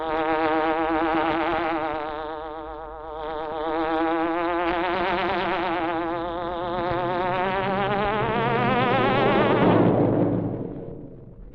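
A hornet-like buzzing sound effect from the Green Hornet radio show, a loud wavering electric drone that rises and dips in pitch, then fades out.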